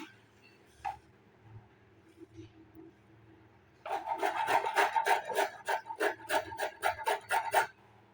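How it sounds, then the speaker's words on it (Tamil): Peeled carrots rubbed against a carrot grater in quick, even rasping strokes, about a dozen close scrapes in a steady rhythm after a few quiet kitchen knocks. "இப்போ கேரட் துருவதில் நம்ம துருவிக்கலாம்"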